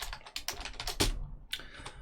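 Rapid bursts of keystrokes on a computer keyboard while writing code comments in Mathematica, close and clear with an irregular rhythm and a brief pause.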